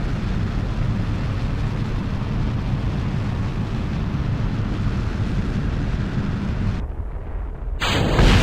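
Rocket exploding in the Kerbal Space Program game, a loud sustained rumbling roar that cuts off abruptly near the end, followed by a brief bright burst.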